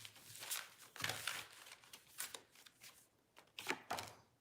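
Tarot cards being shuffled close by, several bursts of riffling and flicking separated by short pauses, fairly quiet.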